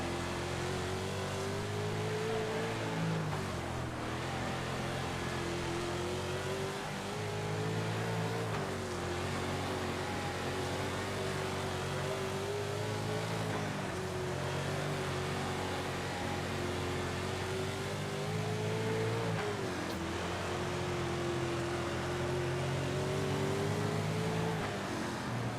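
Sprint car engines roaring through lapped traffic in World of Outlaws 24, a continuous buzzing drone that rises and dips in pitch every few seconds through corners, steady and close for the whole stretch.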